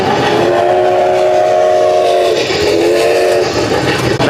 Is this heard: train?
yes